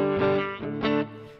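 Two clean electric guitar chords ring out one after another through a Hall of Fame reverb pedal, each trailing off into a spacious reverb wash.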